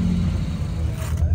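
Jaguar Mark II 3.8 litre classic saloon arriving at the Dijon-Prenois circuit during the Tour Auto rally, a close, steady low engine rumble running throughout the short clip.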